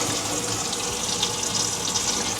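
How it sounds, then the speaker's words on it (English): Water rushes steadily through a newly opened dishwasher supply valve during a GE dishwasher installation, making a continuous, even hiss with no talking. "I'll open the water valve slowly to the dishwasher."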